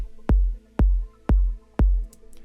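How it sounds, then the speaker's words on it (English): Deep electronic kick drum sample for melodic techno, struck four times at an even half-second pulse, each hit a loud, booming low thump with a short tight tail, heard alone. "I've got a general deep kick from one of my sample packs."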